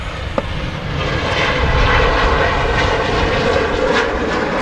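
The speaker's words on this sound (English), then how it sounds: "Textbook rotation from the Jet 273 there." A Jet2 jet aircraft takes off at Manchester Airport, its engines giving a loud, steady roar that holds through the whole stretch with no voices over it.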